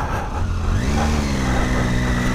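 A Triumph Tiger 800/1200 adventure motorcycle engine starting and revving off-road, a steady close engine note that rises in pitch as it is throttled up.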